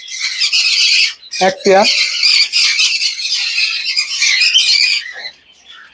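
Cinnamon Japanese budgies in a breeding cage squawk and chatter in loud, continuous bursts, with a brief sharper squeal near the start and a voice speaking faintly among them.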